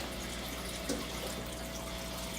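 Water pours steadily into an axolotl tank during cleaning, a continuous close hiss and splash with no pause and no talk.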